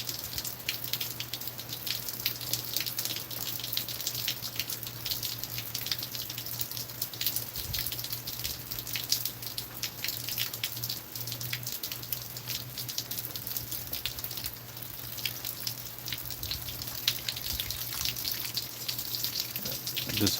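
Water pours steadily onto chili plants for a long stretch, a continuous splashing, trickling wash with a constant low hum underneath and no pauses.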